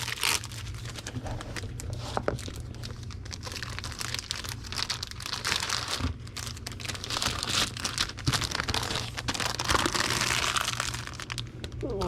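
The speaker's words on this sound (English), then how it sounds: "We're going to put that in the bag that the comic bags come in." A book gets slid into a plastic comic bag, with crisp crinkling and rustling handling noises running continuously at close range.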